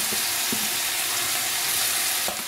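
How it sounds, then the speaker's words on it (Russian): Beef and onions sizzling in a frying pan while goulash cooks, a steady loud hiss and crackle throughout with a few faint clinks of utensils and no talking. "Теперь добавляем лучок и пережариваем вместе с говядиной"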